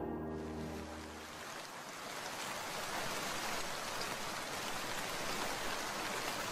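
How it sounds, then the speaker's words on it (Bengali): Heavy rain pours down steadily in a cartoon storm, a dense hiss that grows a little louder after a short musical tail fades out at the start, with no talking. "বাইরে কত ঝড় বৃষ্টি হচ্ছে দেখেছেন বাবু?"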